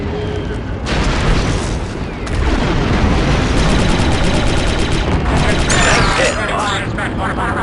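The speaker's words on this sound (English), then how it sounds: "The charge is set and ready to detonate." A demolition charge detonates in the Star Wars Republic Commando video game, a loud sustained blast followed by continuous rumbling battle noise with mechanical clanks and scattered gunfire throughout.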